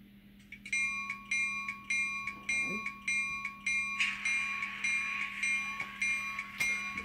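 Kato N-scale SD40-2 model locomotive fitted with an ESU LokSound V5 decoder plays an EMD 645 diesel startup, a rapid steady clanging bell ringing over a low engine hum and rising rumble, close and fairly quiet.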